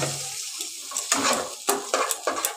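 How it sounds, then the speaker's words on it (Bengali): Water poured into flour and fried garlic in a pan hisses in short bursts as the mixture is stirred, with quick scraping strokes close by and no talk. "এবার আমি জল দিয়ে দিচ্ছি।"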